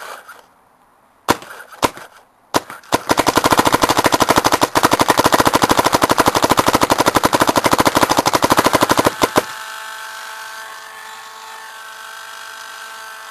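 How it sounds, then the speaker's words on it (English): A 2009 Invert Mini paintball marker fires a long, fast, steady string of sharp semi-auto shots close by, with a few isolated shots before it, then falls quiet to a low hum. "Friend's gonna shoot some too. Turn the gun on."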